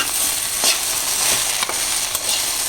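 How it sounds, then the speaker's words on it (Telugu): Okra and onion frying together in a pan, a steady broadband sizzle running throughout with a few soft stirring scrapes, close and fairly loud, no voices. "బెండకాయ వేసి ఈ ఉల్లిపాయ కూడా మగ్గిపోద్ది."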